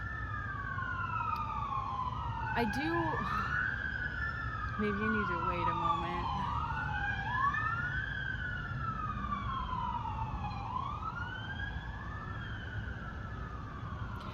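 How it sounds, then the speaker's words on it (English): Sirens wail in long rising and falling sweeps, overlapping and steady in the background while a person speaks nearby. "it's funny that those sirens are going off right now"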